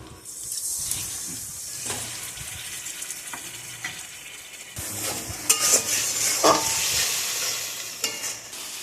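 Poppy seeds go into a frying pan for shahi paneer and are stirred, giving a bright crackling sizzle with scraping strokes, quieter at first and then louder and busier.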